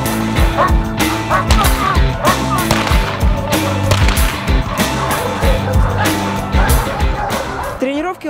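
A police dog barks loudly during bite training on a working-dog field, letting out rapid repeated barks and yips. People talk over the barking.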